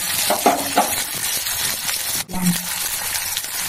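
A paste of ginger, cumin and bay leaf sizzles and crackles loudly in a hot pan for a cauliflower besan curry, with a spoon stirring and scraping against the metal.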